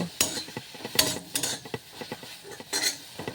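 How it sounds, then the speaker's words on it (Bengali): Chopped green chilies and coriander leaves dry roasting in a pan without oil for chutney, with repeated scrapes and clinks of a utensil stirring against the metal, close and intermittent, no talking. "এখন শুকনো কড়াইতে এগুলোকে একটু ভেজে নেব।"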